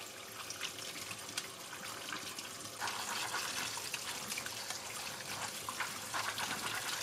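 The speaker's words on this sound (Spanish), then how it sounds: "Después de lavar el nixtamal" Soaked nixtamal corn being rinsed in water, a steady close trickling and splashing wash with running liquid throughout, no talking.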